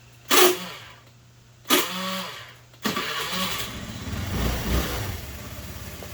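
A Honda Elite 110 scooter engine cranks in two short bursts before catching and settling into a steady idle, heard close up with no talking.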